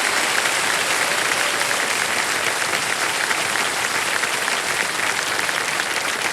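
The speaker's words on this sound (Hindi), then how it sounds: "हाँ, ताली बजती रहे।" Studio audience on the KBC quiz show clapping steadily and loudly, a dense even wash of applause from start to finish.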